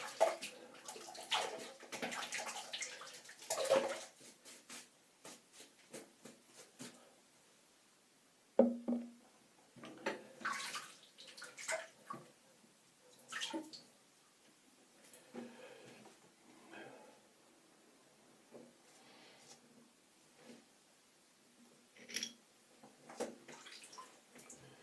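Water splashes and drips from wet hands at a bathroom sink during a wet shave, in irregular close bursts of splashing and trickling separated by quiet gaps, with no voices.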